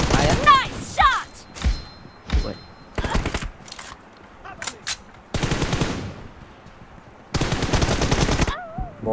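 Bursts of M416 rifle fire in a PUBG-style game: rapid automatic volleys cut in and out, some short, others sustained for over a second, loud and close, with a player talking over the gunfire.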